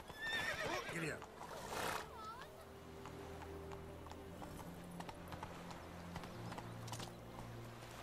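Horse in The Witcher 3: Wild Hunt whinnying loudly, then trotting with steady clip-clop hoofbeats at a moderate pace, a voice briefly urging it on at the start.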